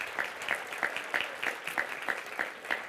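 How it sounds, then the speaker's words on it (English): Steady audience applause at a high school graduation ceremony honoring graduates' parents, guardians and families, dense rhythmic clapping filling the hall throughout. "Graduates, please give a round of applause to your parents,"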